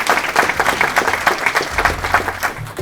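Audience applause at a corporate Diwali event, a short burst of scattered clapping with distinct individual claps, fading toward the end as a low hum rises.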